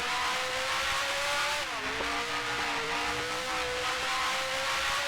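Works F1 racing car in a sim race at the Charade (Clermont-Ferrand '65) circuit, engine droning steadily loud with pitch dipping on a lift and then climbing again as it accelerates, continuous and close, no voices.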